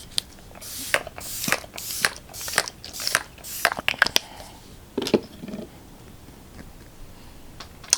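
A run of short, sharp hissing bursts comes from a NYX Bare With Me Prime Set and Refresh spray bottle as it is pumped over and over, followed by a few fainter sprays.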